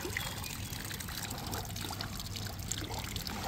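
Water splashes and trickles steadily as a gold prospecting sluice is rinsed out into a bucket outdoors, a constant, fairly close rush of running water with no pauses.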